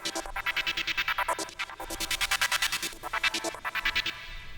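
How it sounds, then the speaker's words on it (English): Synth lead of several saw waves stacked in different octaves, run through an arpeggiator with a sweeping phaser for a future bass drop, rapid pulsing notes with a swirling filter motion, steady and fairly loud. "all it is a few saw waves, different octaves, with the arpeggiator."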